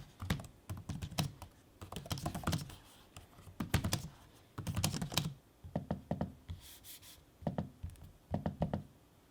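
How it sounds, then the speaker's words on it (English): Gaming laptop with matte keys and trackpad being typed on: quick bursts of soft clicking keystrokes in irregular runs with brief pauses, close and fairly quiet, no talking. "Here's an audio sample for you to check it out for yourself."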